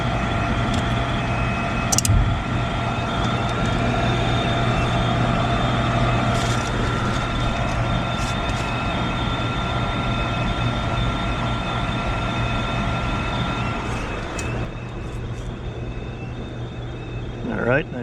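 Home furnace blower and outdoor HVAC compressor run together as a continuous low hum and broadband rumble with steady tones, with occasional faint clicks and handling noise nearby.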